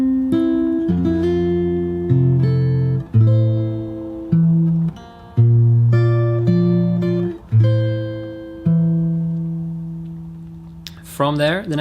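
Fingerstyle acoustic guitar slowly picks two bars of a song, with bass notes under ringing chord tones in a steady, unhurried rhythm, close and solo, ending with a brief strum.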